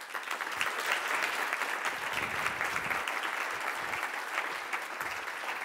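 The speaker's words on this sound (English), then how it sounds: "keep that applause going" A conference crowd at a business club meeting claps steadily, a dense, even wash of applause held at constant strength throughout, moderately distant with no voices standing out.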